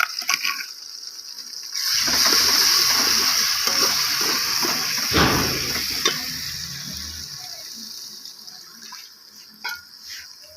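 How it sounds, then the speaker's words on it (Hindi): Onions, garlic and green chilies sizzle loudly in a pan for a Pakistani Punjabi aloo gobi curry, with a broad frying hiss and repeated scraping stirs, one sharp clatter midway, fading toward the end. "हमारा जो प्याज है वो भुने हुए हैं। ये लहसुन और हरी मिर्चें जो है वो मैंने कर दी हैं अच्छी तरीके से।"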